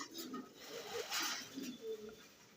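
Pigeons cooing in a loft, low soft coos repeating quietly and close, with a faint human voice in the background.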